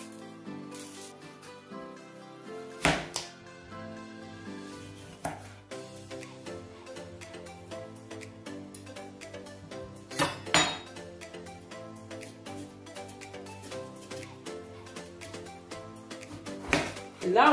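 A knife cuts onions, aubergine and tomato for a pan-fried beef skewer dish, making sharp, irregular knocks and clinks on a hard surface, a few louder strikes standing out over quiet kitchen clatter.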